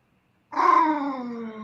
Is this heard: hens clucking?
no